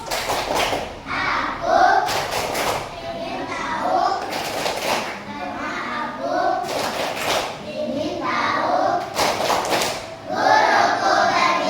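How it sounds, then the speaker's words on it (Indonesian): A classroom of children claps out a rhythmic focus pattern, with several sharp clusters of claps spaced around two seconds apart and children's voices chanting between them. "tepuk fokus."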